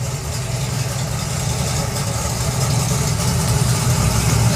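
Turbocharged Pro Modified drag racing cars idle at a drag strip, a steady, loud low rumble with broadband hiss, continuous and unbroken throughout.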